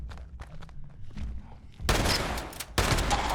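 Shotgun blasts in the video game Fallout 76, two loud, broad bursts following quieter footsteps and clatter, the second shot arriving about a second after the first.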